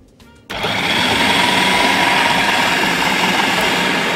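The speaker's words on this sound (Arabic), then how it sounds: "نطحن ده حلو قوي كده" An electric grinder grinding whole spices roars up suddenly after a brief moment of quiet, then runs loud and steady without pause.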